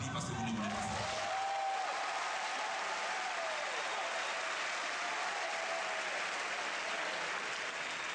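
An audience claps together at a tribute gathering honoring Patrice Lumumba, a dense, sustained round of applause that fills the whole stretch at steady loudness after a brief murmur at the start.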